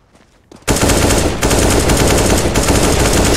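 Loud, sustained automatic AK rifle fire in the game CS:GO, a dense rapid burst that kicks in after a brief quiet moment and runs nonstop to the end.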